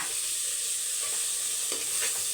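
Ingredients sautéed in a pan for crab masala, a close steady sizzle with brief scraping stirs near the end, no talking.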